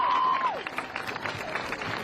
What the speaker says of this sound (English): Let's give him a round of applause and give us a poem.